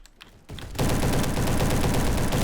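SM-03 submachine gun in Roblox Bad Business opening up after a quiet moment, then firing a loud, continuous, rapid automatic stream of shots up close.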